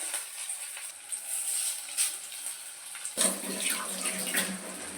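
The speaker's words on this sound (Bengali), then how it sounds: "তেলটা তো গরম হয়ে গেছে, এবার দিয়ে দিলাম তেলের মধ্যে" Small shrimp fritters (kucho chingri bora) dropped into hot oil, a steady bright hiss that swells into a louder, denser sizzle partway through as more batter hits the pan.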